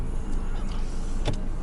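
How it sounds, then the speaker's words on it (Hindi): Road traffic in Mississauga, Canada, heard from inside a moving car: a steady low rumble of engine and tyre noise, with a brief sharper whoosh near the end as another vehicle passes close by. "यहाँ से तो बहुत ट्रैफिक है बॉस"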